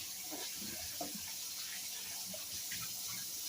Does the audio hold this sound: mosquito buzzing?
no